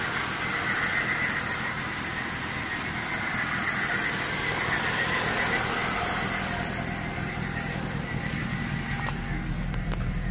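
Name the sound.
2009 Mercedes C63 engine running after flood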